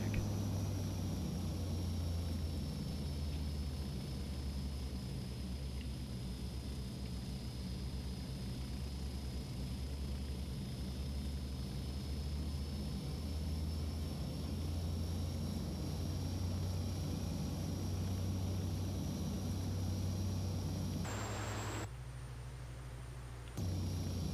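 De Havilland Dash 8-Q300 turboprop engines under added throttle with gear down in a Prepar3D flight simulator, a steady loud droning hum with a high whine running continuously, briefly dropping near the end.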